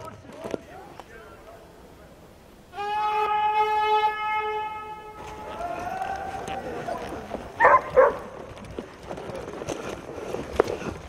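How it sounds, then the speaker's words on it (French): Dogs bark in a forest of 40-year-old pines over 20 metres tall, a few scattered yips and barks heard at a moderate distance, while people talk and a sustained horn-like tone sounds for a few seconds. "Écoute nos chiens aussi"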